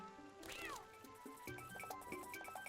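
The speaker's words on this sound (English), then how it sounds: "the cat took the fish" A cat in the video game Twilight Princess gives a clear, rising-then-falling meow near the start, followed by soft game sound effects and faint chimes.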